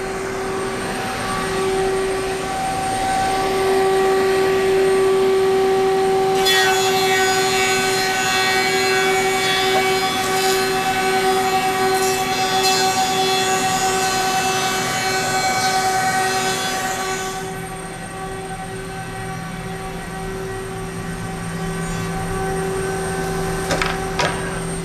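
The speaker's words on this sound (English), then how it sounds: "we're going to send this red oak through and" Moulder machine running red oak stock into tongue-and-groove flooring with a hollow back, at a woodworking trade show demo: a steady loud mechanical drone with a high whining cutter tone that rises when the board feeds through, then drops back to running idle.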